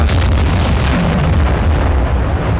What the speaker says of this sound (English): Boiler explosion, possibly?